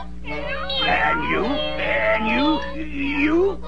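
Several cartoon kittens meow in a run of overlapping, wavering mews, close and loud, sliding up and down in pitch over a steady low hum.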